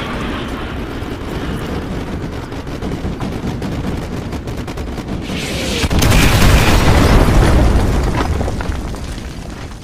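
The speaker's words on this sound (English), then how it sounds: "Artillery inbound." Artillery strike in Call of Duty Modern Warfare 2 Remastered, a dense rumble of blasts and booms building steadily and swelling into a loud, sustained barrage of explosions.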